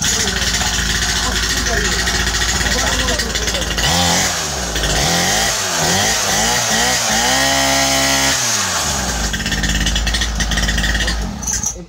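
A children's petrol motorbike runs loud and raspy inside a busy market, its engine revving up and down in rising, falling bursts before settling back to a harsh, steady drone, with voices talking over it.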